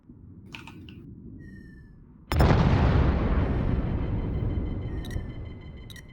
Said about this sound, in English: Okay, torpedoes are hitting.